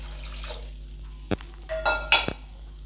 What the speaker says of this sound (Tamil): நம்ம புளி ஊற போட்டிருந்தோம்ல அதை நல்லா கரைச்சி வச்சுருக்கேன், அதை ஊற்றிப்போம்